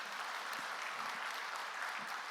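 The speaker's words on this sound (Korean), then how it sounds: "박수로 축하하도록 하겠습니다" A church congregation at a Sunday service claps in celebration of a newly married family, an even wash of applause heard faintly and at a distance throughout.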